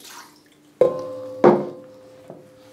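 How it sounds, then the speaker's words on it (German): Water splashes into a mixer bowl holding flour and salt for bread-roll dough, two sharp splashes with a ringing resonance from the bowl, then a smaller drop, with no voices. "Dann kommt Wasser in den Kessel."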